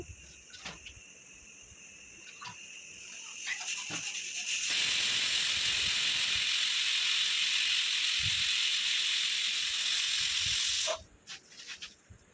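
Pressure cooker venting its whistle while cooking soaked legumes in a home kitchen: a loud, steady steam hiss rises abruptly and holds for about six seconds before cutting off, amid faint kitchen clatter.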